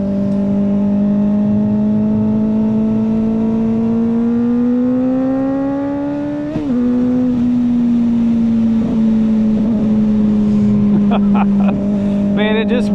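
Kawasaki ZX4RR motorcycle fitted with a slip-on exhaust, ridden at speed with a loud, steady high-pitched engine drone that rises gradually, dips briefly at a shift, then holds, close to the rider.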